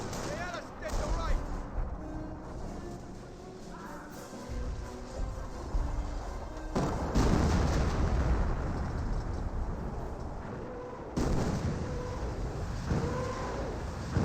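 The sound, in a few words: Nebelwerfer rocket artillery barrage in video game Company of Heroes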